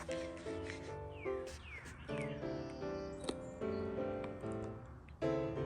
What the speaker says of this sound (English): Wow, is that a red-winged blackbird?